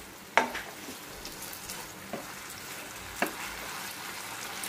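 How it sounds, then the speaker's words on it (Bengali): Spaghetti with vegetables and oregano being stirred in a pan over a high flame: a steady low sizzle runs throughout, broken by a few sharp scrapes and knocks of the spoon against the pan. "এবার একটু ফ্লেমটা হাই করে সব কিছু আমি মিক্স আপ করে দিচ্ছি।"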